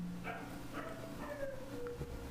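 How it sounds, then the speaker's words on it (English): Dogs barking in the background, faint and distant, several short barks scattered through a quiet low hum. "they're just barking all the time"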